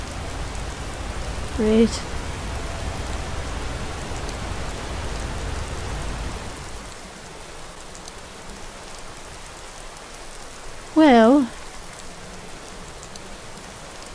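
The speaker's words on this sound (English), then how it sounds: "Markarth in the rain." Steady rain falls over the stone city of Markarth in Skyrim, a constant soft hiss throughout, with someone speaking briefly twice over it.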